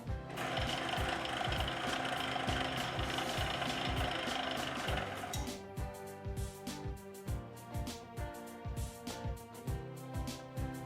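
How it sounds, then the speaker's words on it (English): A small drill whirs steadily for about five seconds, then gives way to a rapid run of sharp, rhythmic tapping and clattering, close and fairly loud. "I've established a spot to use a small drill bit"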